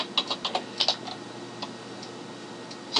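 Computer keyboard typing, a quick run of crisp close keystrokes in an irregular rhythm that fades to a faint hum before one last tap.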